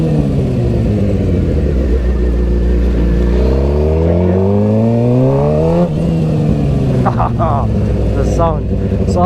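A motorcycle accelerating on the road, its engine climbing steadily in pitch through the gears, loud and close for several seconds with a brief shift dip, continuous engine roar throughout.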